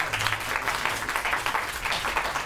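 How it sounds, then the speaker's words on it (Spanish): Audience applause at a Spanish-language academic talk on gender violence, welcoming a legal services director; steady dense clapping fills the room throughout, moderately loud with no voices over it. "Por favor, un aplauso."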